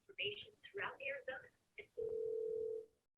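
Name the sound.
telephone dialing for a call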